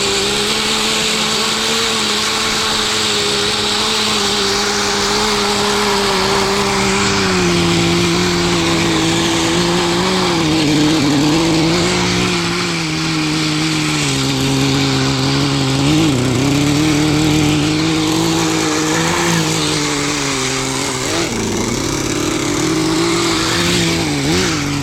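A Kyosho Blizzard tracked nitro RC vehicle runs its small engine, making a loud, buzzing whine that rises and falls in pitch as the throttle changes while it drives steadily.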